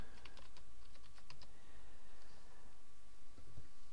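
Rapid, irregular keystrokes on a computer keyboard as a username and password are typed, steady close clicking with no voices.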